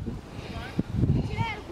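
Strong wind buffets the microphone outdoors during kite flying, a steady low rumble beneath people talking nearby.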